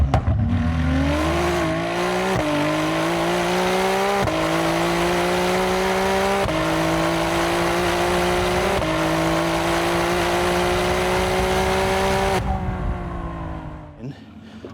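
A Ferrari race car with a 2.9-litre twin-turbo V6 roars continuously on track, its pitch climbing repeatedly through the gears in sharp upshift steps before the sound fades away at the end.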